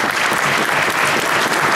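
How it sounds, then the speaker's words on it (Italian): A crowd at a Masonic gathering applauds in a thick, steady wash of clapping, loud and continuous for the whole short stretch. "La gente applaude."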